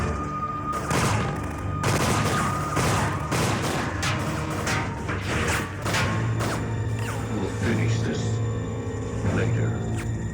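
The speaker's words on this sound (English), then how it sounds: "The squad captain pulls a gun on Cable, and Cable, I guess having respect for him, only shoots his hand" Repeated gunfire and crashing impacts from a Robocop: Prime Directives action scene, loud bursts spread across the clip over a continuous mix of scoring and effects.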